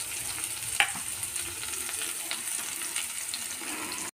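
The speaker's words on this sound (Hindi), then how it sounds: "मैं अब इसी ऑयल में प्याज फ्राई करूंगी" Small chopped onions frying in oil left from frying eggplant, giving a steady, dense sizzle with a single sharp utensil clink early on.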